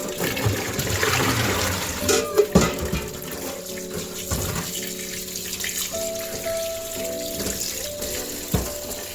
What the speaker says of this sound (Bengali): এই জলের মধ্যে ভালো করে আমি শাকটা ধুয়ে নেব